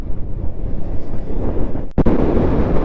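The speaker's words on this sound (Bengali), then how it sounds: "প্রচন্ড পরিমাণে হাওয়া।" Strong wind buffets the microphone while riding a Bajaj Avenger 160 motorbike on rough off-road tracks in Mustang, a steady loud roar of gusts throughout with a sharp thump near the two-second mark.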